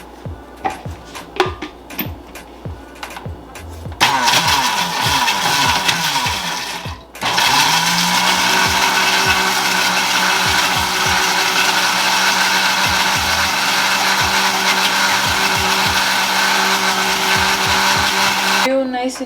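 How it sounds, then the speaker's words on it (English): A blender whirs loud and steady through garlic, oil, lemon juice and salt, starting after some clatter and short bursts, then running continuously to the end. "now we're just gonna blend this up"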